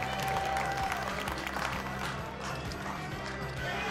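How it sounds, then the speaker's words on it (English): At a World Poker Tour table, a crowd cheers and claps after a big bluff is revealed, a dense wash of applause and shouting that goes on steadily under a commentator's voice. "Crowd goes wild, and how could they not?"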